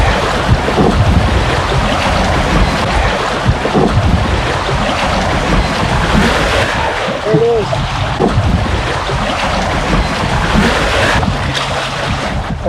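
Atlantic Ocean surf at the shore, a steady broadband wash of waves mixed with heavy wind buffeting the microphone, loud and continuous throughout.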